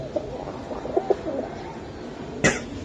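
Pigeons at a pigeon market, including a deep red breeding pair, give a few soft, low coos, followed by a sharp, brief throat-like burst near the end.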